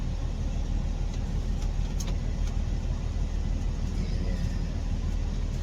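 A Western Star truck with a Detroit DD15 diesel engine running, a steady, dense low rumble that holds without pause throughout.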